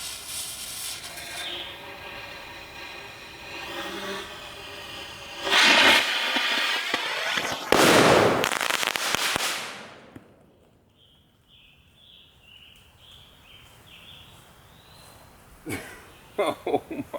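A homemade rocket launcher fires fireworks on the Fourth of July and the launch goes wrong. Loud, roaring hisses and whooshes surge close by for several seconds, then fade to quiet, and a few sharp pops and crackles follow near the end.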